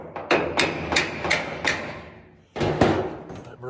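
Several sharp hammer taps on the steel trunk lid of a 1969 Pontiac Firebird under rust repair, five quick metallic strikes in a row, a pause, then two more close and fairly loud.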